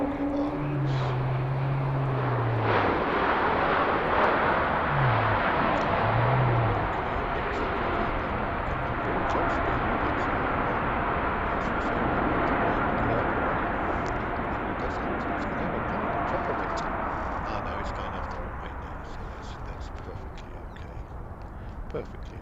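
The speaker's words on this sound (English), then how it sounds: "that Swiss Airways flight has come all the way over from Switzerland" A Swiss airliner on approach to Heathrow airport roars past as a broad jet rumble that swells and slowly fades, with someone talking over it at the start.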